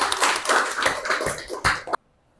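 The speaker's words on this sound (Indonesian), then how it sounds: "Oke, tepuk tangan." A small group claps briefly in a classroom teaching session, a quick burst of hand claps lasting about two seconds and then silence.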